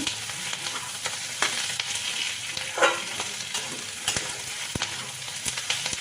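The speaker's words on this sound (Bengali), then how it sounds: "এখন আমার পেঁয়াজ ভাজা চলছে" Sliced onions fry on low heat in a pan for a poppy-seed onion dish, giving a steady close sizzle with occasional stirring scrapes and brief louder crackles.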